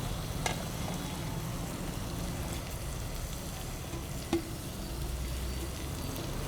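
Jaggery melts in a pan over a slow flame, giving a steady, faint sizzle and crackle throughout with an occasional light tick of a utensil.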